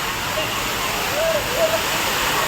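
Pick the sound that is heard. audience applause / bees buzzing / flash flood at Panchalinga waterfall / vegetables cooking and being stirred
flash flood at Panchalinga waterfall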